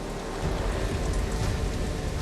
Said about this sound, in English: But there will be no shelter from this storm.